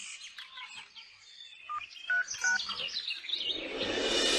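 An incoming call on a mobile phone sounds as a bright electronic ringtone: short chirping, melodic beeps that repeat over a few seconds, close and clear, then give way to a broad rising hiss. No one speaks.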